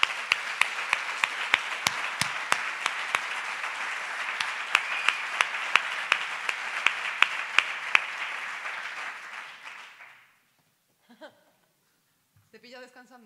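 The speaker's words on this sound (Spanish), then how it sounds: "un aplauso para vosotros" Audience applause at an acoustic concert, a dense wash of clapping with sharp claps on top, steady for about ten seconds before breaking off into silence and then brief faint sounds.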